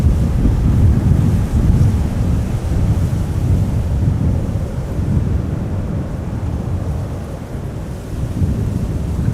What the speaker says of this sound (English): it looked like the wind was calming down, but it doesn't seem to be the case